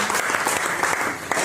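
An audience breaks into hearty applause for a woman who cycled from Kochi, Kerala, a dense wash of clapping with a few sharper individual claps standing out, moderately loud and continuous.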